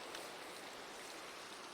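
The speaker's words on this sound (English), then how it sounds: "Oh, rain. Never a good sign in a place like this." Steady rain in the Minecraft video game makes an even, soft hiss that stays constant and fairly faint throughout, without any voices.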